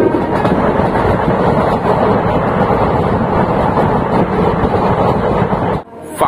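The 12311 Netaji Express running from Howrah to Kalka, heard from aboard as a loud, steady rumble of wheels on rails with faint rhythmic clatter, continuous for about six seconds before dropping off abruptly.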